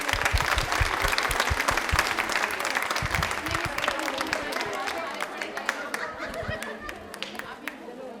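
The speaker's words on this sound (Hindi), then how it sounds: "जोरदार तालियां प्लीज" A studio audience at a televised Rajasthani quiz show claps loudly and steadily throughout, with dense continuous applause that eases slightly toward the end, and voices mixed in.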